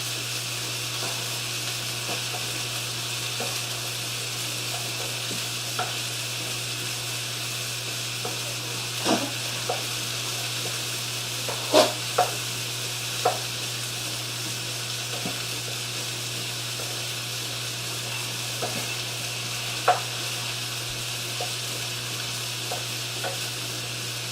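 Food sizzling and frying in a hot pan in a home kitchen, with a steady hiss under occasional scrapes and clicks of a utensil stirring, alone with no talk.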